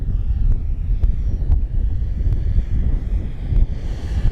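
An FMS P-40B Flying Tiger 1400mm radio-controlled model warplane flying on a windy day: a steady engine drone mixed with gusty wind buffeting the microphone, with a few brief ticks, no talking.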